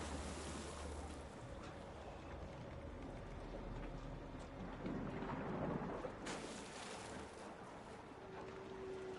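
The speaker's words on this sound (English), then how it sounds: "I heard there's a storm coming." A thunderstorm in the video game Uncharted 3, with a steady wash of rain and low rumbling thunder that swells midway, all faint and distant.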